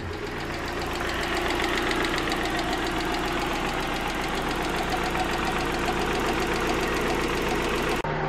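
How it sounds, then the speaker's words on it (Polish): A car engine idles during a Liqui Moly engine flush on an engine with a compression problem, a steady, close mechanical drone with a fast knocking rattle running through it, continuous and alone, then cut abruptly near the end. "Na wolnych obrotach, tak jak zaleca producent. nic nie dotykamy, tylko obserwujemy zegarek i w odpowiednim momencie gasimy silnik."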